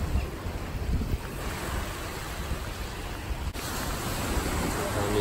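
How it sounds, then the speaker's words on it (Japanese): Ocean waves wash and break steadily on the beach at Kamakura under an overcast sky, a continuous broadband surf roar with gusty wind buffeting the microphone and no clear gaps between swells. "波の音が本当に新鮮。"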